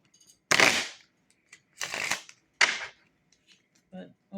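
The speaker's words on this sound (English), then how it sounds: "Some people may not like the way I shuffle." Tarot cards being shuffled by hand during a Kipper card reading, three loud riffling bursts close up with short pauses between them, followed by a brief low voice.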